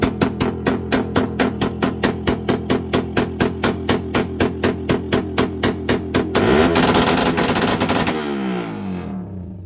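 A car's exhaust backfires in rapid, evenly spaced loud pops from anti-lag and launch control around 5,000 RPM, a long string of bangs like gunfire before a brief surging rev and a fading tail.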